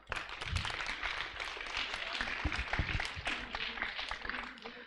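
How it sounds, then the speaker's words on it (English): An audience at a main event hall bursts into sustained applause, dense steady clapping filling the room without pause, mixed with a few scattered voices. "Could we have a huge round of applause for them?"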